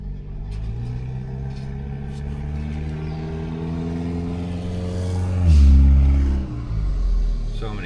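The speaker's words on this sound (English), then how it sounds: "cars going by" Cars roll past outside an abandoned building, a steady low rumble of traffic that swells into a louder pass near the middle before easing off, with faint talk underneath.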